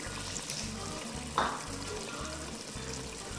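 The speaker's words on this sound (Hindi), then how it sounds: "अब इसको मैं उस वक्त तक पकाऊंगी जब तक प्याज का पानी जो है वो ड्राई ना हो जाए" Onions cooking in a pan for chicken karahi give a steady, fairly quiet frying hiss, with one brief louder scrape or stir partway through and no talking.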